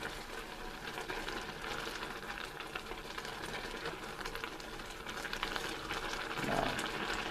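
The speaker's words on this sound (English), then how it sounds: "See how it's boiling away there?" A pot of spicy oxtail stew with garlic boiling away on the stove, giving a steady dense bubbling and sizzling hiss throughout, close and moderately loud, with no talking.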